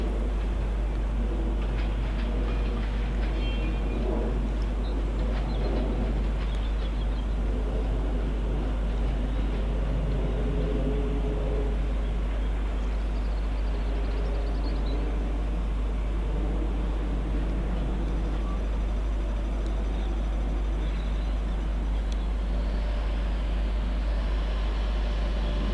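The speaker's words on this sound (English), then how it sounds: "And as that arrives, terminating on the far side from London Euston, is 710 260 for London Overground." London Overground class 710 electric train, unit 710 260, pulling into Watford Junction station, a steady broadband rumble and hum of the arriving train filling the platform throughout, with no voices.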